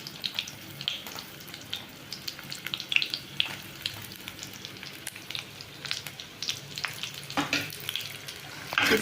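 Dried chillies, onion, ginger and garlic fry in a pan with a steady low sizzle, broken by the scrape and clatter of a utensil stirring through the mixture.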